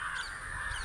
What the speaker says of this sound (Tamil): காக்கா கூட்டத்தை பாருங்கள்